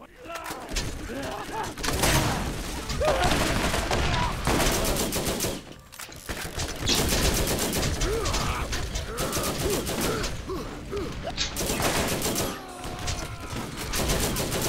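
Bursts of rapid gunfire in the video game Borderlands crackle in heavy volleys, loud and close, broken by brief gaps, with some talk faintly beneath.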